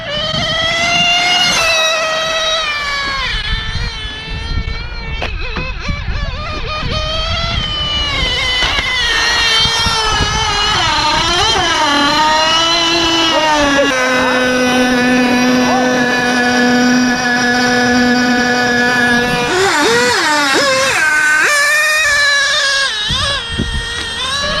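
A Serpent Viper nitro on-road RC car with a Novarossi engine makes a speed pass on a parking-lot road, its high-pitched engine screaming loudly and continuously, pitch rising and falling as it accelerates and carves turns.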